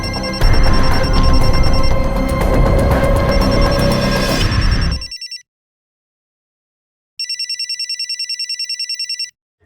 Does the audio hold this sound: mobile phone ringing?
yes